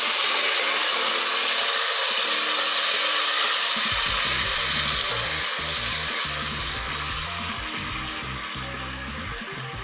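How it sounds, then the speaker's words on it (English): Broth poured into a hot pan of toasted brown rice for a vegan risotto, a loud steady sizzle that swells into crackling bubbling as the liquid hits, then gradually settles a little. "I'm going to add maybe half a cup of broth right now."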